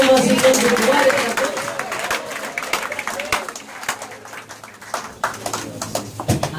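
A church congregation claps hands while being seated at a Portuguese-language service, broad irregular clapping from a crowd mixed with voices and a sustained tone, fading to scattered claps.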